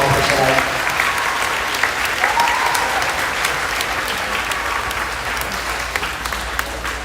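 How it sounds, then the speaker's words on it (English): Sustained audience applause fills a school spring band concert hall, dense and steady throughout with faint voices mixed in, slowly easing toward the end. "please give her a round of applause for everything that she does to help"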